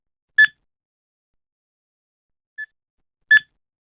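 Digital clock button beeps loudly, two short sharp electronic bleeps about three seconds apart with a faint softer blip between them, alone against silence.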